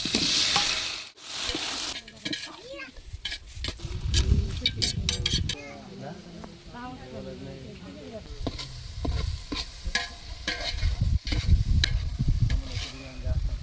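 A spoon stirs a frying paste of tomato, onion and ginger for biryani, giving steady sizzling with scraping strokes and occasional pot clinks, close and moderately loud, and a voice talks briefly over it.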